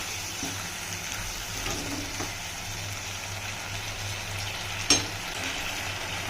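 Avarekai palya masala curry bubbling and simmering in a pan, a steady soft sizzle with one brief sharp clatter near the end.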